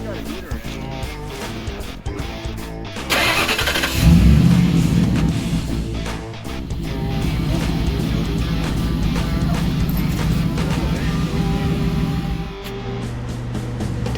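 Old rat-rod truck engine turns over, catches and settles into a steady rumbling idle and drive, loud and close inside the cab, with a person talking over the engine noise.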